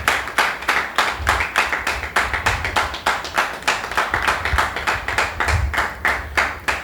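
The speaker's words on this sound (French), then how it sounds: "Sous vos applaudissements, s'il vous plaît." Audience applause welcoming a guest onto a French magazine-show set: a small group clapping in a clear, fairly even rhythm, each clap distinct and close, continuing steadily without voices.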